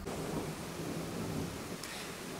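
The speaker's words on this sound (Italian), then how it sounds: "Lo sentite il tuono?" Thunder rumbles over steady rain on a dark, stormy day near Parco Le Rocche between San Martino Alfieri and Antignano, a long low roll with a brief sharper crack near the end, no voices.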